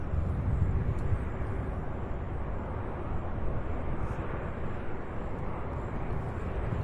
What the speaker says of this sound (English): Our next UPS arrival here is an MD-11 out of Houston, Texas, UPS 2773.